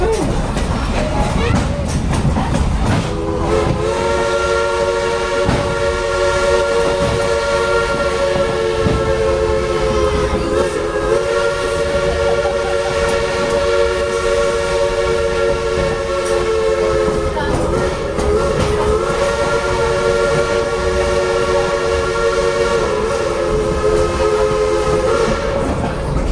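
A heritage train on a nonprofit railroad runs toward the town of Mineral near Mount Rainier, its steady loud rumble and clatter continuing throughout, with a long drawn horn or whistle sounding alone over it for most of the ride.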